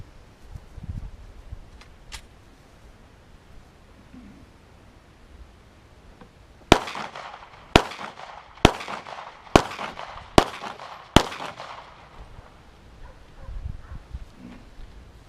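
A Glock 43 single-stack 9mm pistol fires six sharp shots in a quick, fairly even run, loud against a quiet outdoor background with faint rustling before the first shot.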